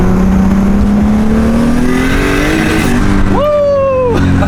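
A turbocharged BMW E36 with an S50 engine revs loud and close on a dyno, its pitch climbing steadily before a sharp higher surge near the end that holds and then drops away.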